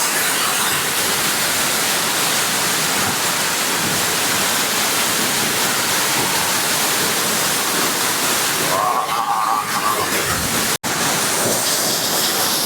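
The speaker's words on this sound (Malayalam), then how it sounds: "എൻ്റെ പുറകിലാണ് വെള്ളച്ചാട്ടം ഉള്ളത്" Achankallu waterfall roars as a loud, continuous rush of falling water up close, steady throughout with a brief shift near the end.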